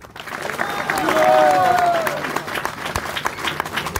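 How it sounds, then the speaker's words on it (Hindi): An audience at a Janmashtami lecture at ISKCON Pune breaks into loud, swelling applause with crowd cheers mixed in, while a voice carries a held tone above the clapping. "अरे बजाओ ताली"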